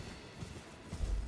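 Horse hooves clip-clopping in the video game Elden Ring, a faint, soft run of low thuds under a quiet background, with a slightly heavier hoof strike toward the end.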